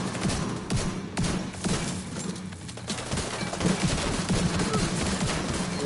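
Continuous gunfire from a PS4 video game, fast crackling shots and bursts layered over a busy, noisy background that runs throughout.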